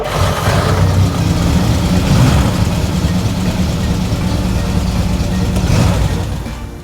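Car engine turned over by an electric starter motor, a loud, steady mechanical drone running for the whole stretch with slight swells, no voices.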